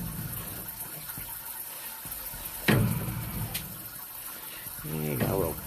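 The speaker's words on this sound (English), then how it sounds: "There's some water coming." Water running through a sewer pipe, a steady low wash and trickle that swells briefly with a gushing burst near the middle and again toward the end.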